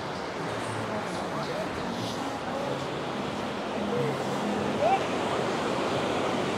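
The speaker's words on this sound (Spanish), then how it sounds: "está bastante el mar agitado y el agua está fría" Rough sea surf rolls onto Ingleses beach in Florianópolis, heard as a constant broadband wash of breaking waves with wind noise, steady and moderately loud throughout.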